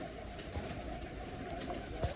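Expensive pet pigeons cooing softly in a loft, low faint coos with a couple of clearer calls against a quiet steady background hum.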